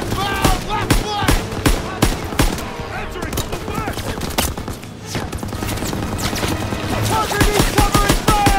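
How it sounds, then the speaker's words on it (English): Machine gun fire in a Call of Duty WWII battle on Hill 493: loud, rapid, sustained bursts of gunshots crackling close by, layered with other combat noise and brief shouted voices. "Lay down fire on that MG!"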